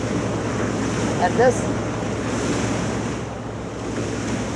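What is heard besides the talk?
wake surfing wave behind a Malibu M230 boat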